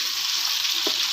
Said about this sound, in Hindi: फिर हम इसको दोबारा फ्राई करेंगे